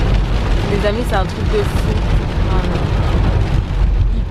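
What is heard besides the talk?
heavy rain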